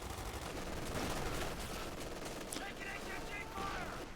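Dense gunfire and machine gun bursts from a Company of Heroes 2v2 battle, a steady crackling rattle of shots with some heavier thuds, mixed under ongoing commentary.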